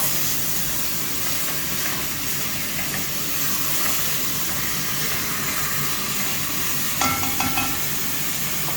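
Minced meat with herbs and spices being stirred in a pan while cooking spaghetti bolognese, giving a steady low sizzle and scraping hiss throughout, with a brief clatter near the end; no talking.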